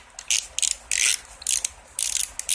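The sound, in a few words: ratchet snugging down lawn mower carburetor bolts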